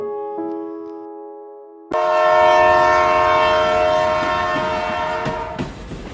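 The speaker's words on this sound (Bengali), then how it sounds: "তিরিশ মিনিট লেট করে দুপুর 2:30 ট্রেনটা থামলো ভুবন মোহিনী হল্টে।" A train pulls into a small rural halt after running late: a sustained multi-tone horn sounds first, then a loud, close rumble of wheels and carriages swells in and slowly eases as it comes toward a stop.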